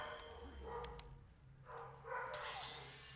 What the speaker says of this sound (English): So if you hear dogs in the background, that's not just your imagination.